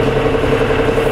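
A tractor pulling a notch tree puller with an extended, doubled-length setup drones steadily nearby, a loud continuous engine hum with a mid-pitched tone and no talking.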